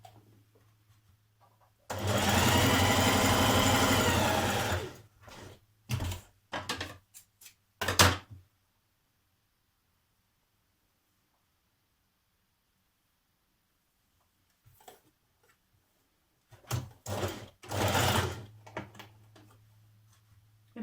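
Sewing machine stitching a fabric shoulder seam for a top, with back tacks at each end: a loud steady run of about three seconds, then several short bursts, a long quiet pause, and another cluster of short stitching bursts.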